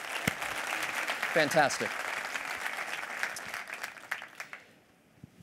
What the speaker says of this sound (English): give a big round of applause for the PHLCVB.